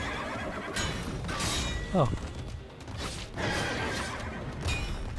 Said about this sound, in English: This sounds like a horse too.